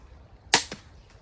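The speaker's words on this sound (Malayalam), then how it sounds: "അത് വെടിയായിരുന്നു." A slingshot shot fired while hunting red snapper gives one sharp, gunshot-like crack followed by a fainter second snap, close and brief against quiet surroundings.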